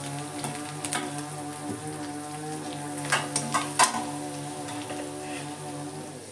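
Ginger and ground spices sizzle steadily in a hot pan of oil for a mung dal kachori filling, a dense crackling hiss with a few sharper pops and clinks near the middle.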